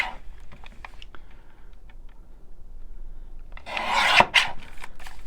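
A short burst of rasping, scraping noise of a paper trimmer cutting paper near the end, loud and close, after quieter scattered taps and rustles.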